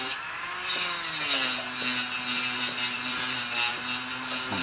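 A mild 150 grit abrasive grinds into a seashell, a close, high whining rotary tool tone that starts abruptly and holds steady with slight pitch bends as it cuts into the shell.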